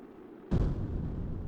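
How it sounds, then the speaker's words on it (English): Fireworks bursting in the game Kerbal Space Program during spacecraft re-entry: a single sudden deep boom followed by a sustained rumbling roar that continues to the end. "Here are our New Year's fireworks."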